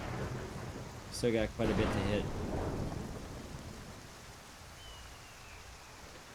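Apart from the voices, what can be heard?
thunder and lightning strike in Skyrim video game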